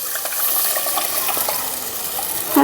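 Dissolved tamarind liquid is poured into a pan of jilebi fish curry, giving a steady, close gushing splash that runs for a few seconds before a brief louder slosh at the end.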